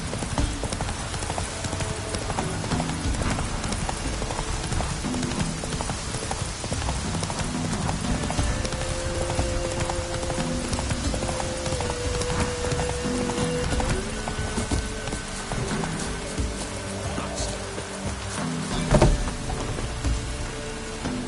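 Horse hooves clip-clop steadily in The Witcher 3 game, a continuous close trotting rhythm over falling rain, with the odd soft snort.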